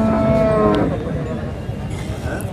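A cow at the Sangola cattle market gives one loud, close, drawn-out moo that fades after about a second, leaving a busy market murmur behind it.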